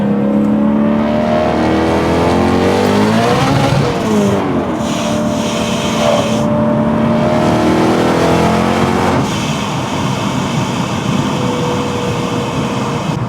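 A Mitsubishi Evo 8 engine revs hard under acceleration, its loud engine note climbing and dropping several times with rough shudders from rear wheel hop, close and steady with no talk.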